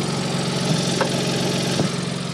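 Exhaust blowing from a poorly seated centre pipe on a Peugeot 107 with a new exhaust, a steady engine idle with a continuous low rumble and faint irregular puffing, close up and alone.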